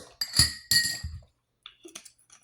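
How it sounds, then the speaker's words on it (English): A spoon clinks against a glass of water while apple cider vinegar is stirred in, giving two sharp ringing taps close up followed by fainter, scattered light clinks and a brief quiet stretch. "Just take it and just mix it in a glass of water."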